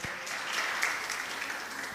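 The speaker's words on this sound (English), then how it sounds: "A round of applause for them." Audience applause for volunteers at an amateur radio event, a steady wash of many hands clapping indoors, sustained and fairly loud for the full two seconds.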